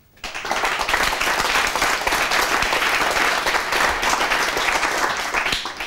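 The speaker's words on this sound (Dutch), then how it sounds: "en van een hartelijk applaus voor zowel Pieter als Marjolein" Studio audience of a TV talk show gives a warm round of applause for two guests, dense steady clapping filling the room from start to finish with no talk over it.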